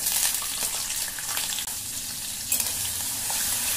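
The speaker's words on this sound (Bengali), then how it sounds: "ছোলাগুলো আমি তেলের মধ্যে দিয়ে দিলাম। ছোলাগুলো একটু ভেজে নিচ্ছি।" Soaked chickpeas sizzle in hot oil seasoned with cumin seeds and a dried red chilli, a bright continuous crackling fry with occasional stirring scrapes, close and fairly loud.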